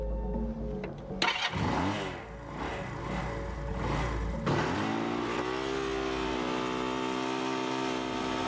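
A motorcycle engine starts and revs in surges, then settles into a steady droning idle, loud and close with no voices.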